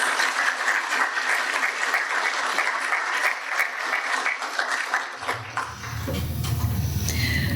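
Dense applause from a graduation ceremony audience honoring supporters fills most of the stretch, then thins out as a low rumble and shuffling take over near the end.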